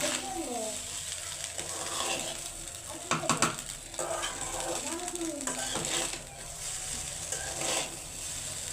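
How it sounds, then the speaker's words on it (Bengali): Egg is stirred into leftover rice in a hot pan with soft sizzling and repeated scraping, clattering strokes, while a person speaks intermittently over the cooking. "এখন ভালো করে নেড়ে চেড়ে এই যে ডিম দিয়ে দিছি"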